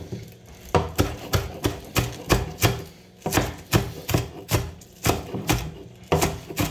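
Knife chopping green onions on a cutting board, a steady run of sharp, close rhythmic taps with a brief pause midway before continuing.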